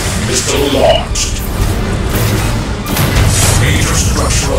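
Missile and artillery explosions in the video game Command and Conquer Rivals, repeated loud booms and rapid gunfire bursts under a voice speaking throughout.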